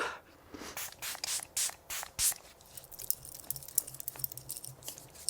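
Makeup setting spray hisses from a pump bottle onto a face in a quick run of about six short bursts, close and crisp, followed by softer patting sounds.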